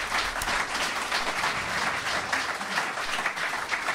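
Audience applause on a French local television broadcast, dense steady clapping from many hands filling the whole stretch at moderate level.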